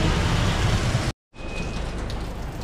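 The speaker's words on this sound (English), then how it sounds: "hopefully the rain will stop soon" Steady rain pours down during the rainy season on Gordon Avenue in Olongapo City, Zambales, Philippines, a dense continuous hiss that cuts out briefly, then resumes at the same level.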